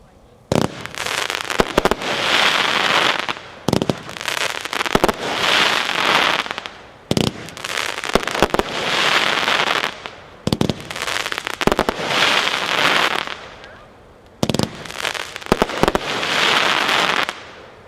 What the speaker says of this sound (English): Number 10, CBD-Chronic Boom Disease by Pyro High. Pack 4, 25 shots.